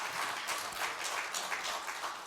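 Church congregation applauds in a steady, dense wash of clapping that holds evenly for the whole stretch, with no talking over it.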